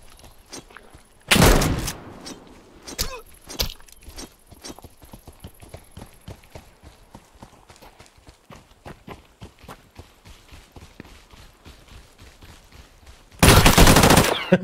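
Gunfire in the survival shooter game Deadside: a long string of sharp, rapid shots at mid distance, with a louder close burst near the start and a heavy blast at the end, and no voices.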